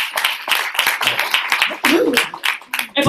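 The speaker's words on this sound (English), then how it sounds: "please give yourself a round of applause." A small audience at a talk applauds themselves, with scattered, uneven clapping from a handful of people. Voices speak and murmur over the claps throughout.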